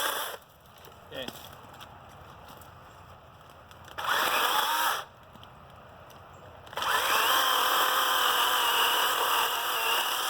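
A DeWalt or Milwaukee battery chainsaw revs in two loud bursts, one short and one sustained to the end, with quiet idle gaps between them.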